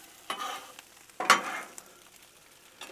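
Pasta noodles are stirred and broken up on a hot Blackstone griddle, with two loud scraping, sizzling bursts of mixing separated by quieter gaps of low sizzle.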